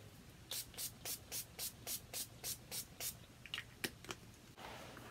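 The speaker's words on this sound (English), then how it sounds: "I'm going to take the NYX Matte Finish Setting Spray" Rapid series of about ten short spray bursts from a NYX Matte Finish setting spray in a steady rhythm, close and crisp, followed by a few scattered softer puffs and handling noise.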